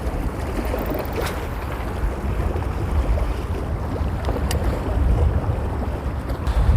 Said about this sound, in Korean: 지금 바람이 서풍으로 불고 있어가지고 왼쪽에서 오른쪽으로 많이 불고 있는데